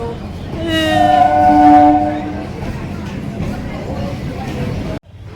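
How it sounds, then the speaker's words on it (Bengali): A train pulling out of Biwadibag station in Kolkata sounds a long, loud multi-tone horn over the rumble of rolling wagons. It then cuts off sharply near the end, leaving quieter ambience. "আমাদের ট্রেন আমাদেরকে রেখে চলে গেল।"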